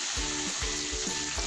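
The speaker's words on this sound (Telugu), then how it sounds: "దీంట్లోనే కొంచెం కరివేపాకు వేసుకొని ఫ్రై చేసుకుందాం" Chicken pakoda pieces with curry leaves fry in hot oil, a loud continuous close sizzle with soft rhythmic stirring pulses, no voices.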